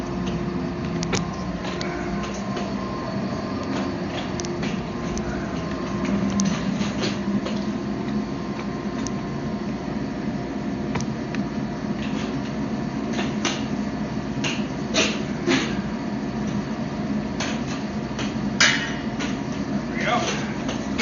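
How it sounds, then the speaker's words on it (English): A power hammer forges steel in a knife-making shop, delivering repeated sharp metallic blows at an uneven pace over a constant machine hum, close and fairly loud. "I think this next one we're going to do on the power hammer."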